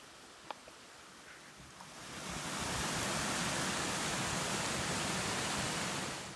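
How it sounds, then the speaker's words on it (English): Water pours from a pond beside a stone wall, starting faint and swelling into a steady, even rush that stays constant, with a couple of soft knocks early on. "here's a short video of the water running from the pond."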